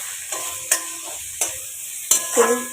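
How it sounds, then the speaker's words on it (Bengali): A spatula scrapes and stirs ingredients frying in a pan with sliced green chillies, giving a few distinct knocks and scrapes over a soft sizzle. "এবার ভালো করে ভেজে নেব"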